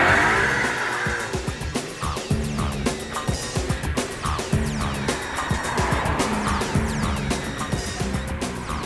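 A Maserati Quattroporte S is driven on the road, its engine revving through rising and falling pitch sweeps with gear changes, a high, rasping Italian wail heard steadily from inside the car, with no speech.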